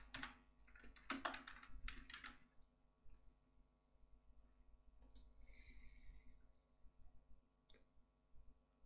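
Quiet typing on a computer keyboard, a fast burst of clustered key clicks followed by softer scattered taps and a few final strokes, close up with no speech.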